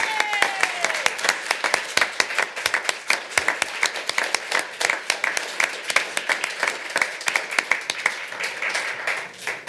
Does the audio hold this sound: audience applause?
yes